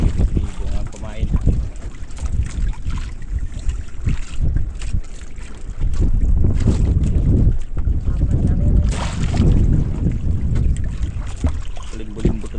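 Strong wind buffets and roars across the microphone in heavy gusts, with voices partly audible beneath the blustery noise.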